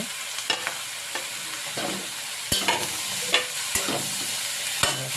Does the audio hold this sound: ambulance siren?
no